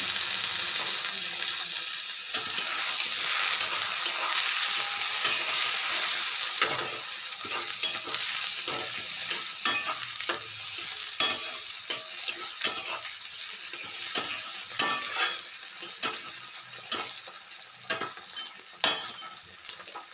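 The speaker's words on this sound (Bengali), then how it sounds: "তো টমেটো কুচি এখানে দিয়ে দিচ্ছি।" Chopped tomatoes hit a hot pan for a dhaba-style tadka dal and fry with a steady, bright sizzle, while a spoon stirs them in repeated scraping clicks, close and fairly loud throughout.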